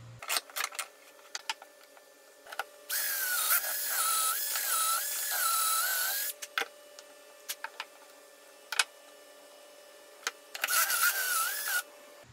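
A power drill bores dowel holes through a dowel jig into wood for a farmhouse table, with a long whining burst and a shorter second one, separated by scattered clicks and taps, close and without speech.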